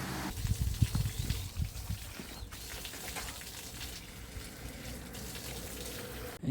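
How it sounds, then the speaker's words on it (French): Small stream of water trickling steadily near a hiking trail by the Hérisson waterfalls in the Jura, a continuous close, soft flow with a brief stronger gush near the start. "ce petit filet d'eau là"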